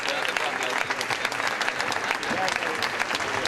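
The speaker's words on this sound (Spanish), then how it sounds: "este matí l'han aplaudit tant com han pogut" Deputies in the Valencian parliament applauding President Camps, a dense, sustained round of clapping from many hands filling the chamber, with some voices mixed in.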